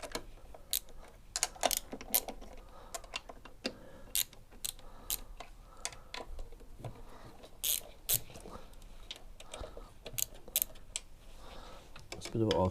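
A wrench cracks loose bolts on a Royal Alloy GP300 scooter, sounding as scattered close clicks and ratcheting bursts with a metallic tap or two, with someone talking over the work.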